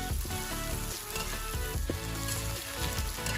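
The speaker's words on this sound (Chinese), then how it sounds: "锅留底油，将腊牛肉倒入锅中炒香。" Cured beef stir-frying in a little oil in a wok, a loud, dense sizzle running without break, close up, with the meat tossed and shifting in the hot fat.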